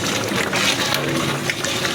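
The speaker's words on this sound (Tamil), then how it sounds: "நல்லா கொதிக்க வேகுது." A pot of Chettinad chicken curry bubbling and simmering steadily, a close, continuous wet burble with no talking.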